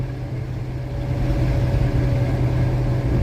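A Caterpillar 3406 diesel engine runs steadily with a deep, rumbling drone that swells slightly louder partway through, close and constant with no talk.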